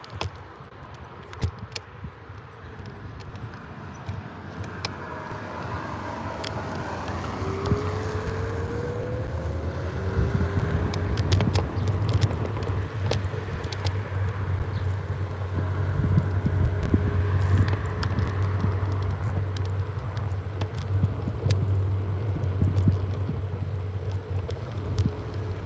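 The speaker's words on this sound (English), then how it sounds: "Going for a ride on my scooter" Riding a scooter through town in South Central Kettering, with a steady low engine drone and rushing wind noise continuing throughout, passing traffic sounds and brief clunks over the constant hum.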